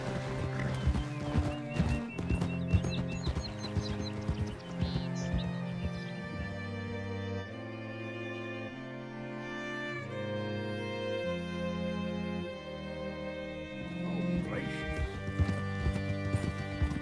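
Horse hooves clip-clopping in Red Dead Redemption 2 at a steady rhythm, close and continuous over layered game music, with brief snorts and whinnies.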